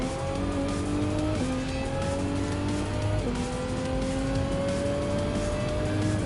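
Turbocharged Group 4 race car engine at Mount Panorama in Gran Turismo 7, a loud, close engine whine climbing through gears with clear upshifts, steady and continuous with no talk.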